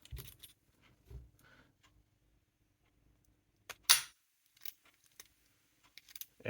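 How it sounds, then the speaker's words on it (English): Two keys for a see-through practice lock jangle and clink in short, scattered bursts separated by quiet gaps, one sharper metallic rattle in the middle, close and fairly loud. "just to show you the keys work"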